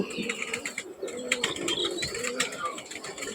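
Teddy pigeon chicks coo and murmur softly in a loft, with soft overlapping calls and light rustling over a low background hum.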